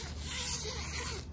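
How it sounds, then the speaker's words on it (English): Zipper on a chicken brooder being pulled closed, one quick continuous rasping zip running close by, with no talk. "Fix your zippers."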